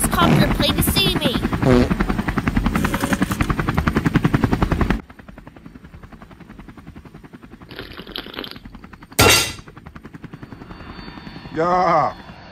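A helicopter's rapid rotor chop pulses loudly for about five seconds, then the noise drops away, leaving faint background with a few brief bursts.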